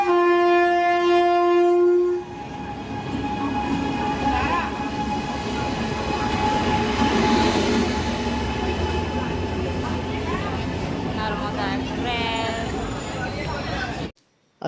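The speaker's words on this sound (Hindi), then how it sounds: "ट्रेन भी आ गई और यहीं से शुरुआत करेगी अपने सफ़र का ट्रेन" A passenger train pulls into Bilaspur railway station, its horn blaring at the start before the steady rumble and clatter of rail cars carry on loud and close, with people talking over the platform noise.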